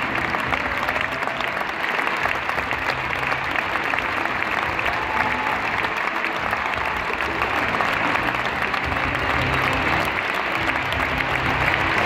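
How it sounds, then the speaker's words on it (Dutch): An arena audience at a gymnastics gala in the Ziggo Dome gives loud, sustained applause, a dense even wash of clapping that holds steady throughout. "Een hartelijk applaus, dames en heren."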